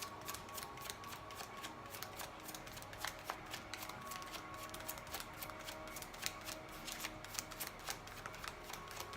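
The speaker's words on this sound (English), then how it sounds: "I do have to shuffle the cards" Tarot cards being shuffled by hand, a quiet, continuous riffling and flicking with dense rapid clicks throughout and no talk.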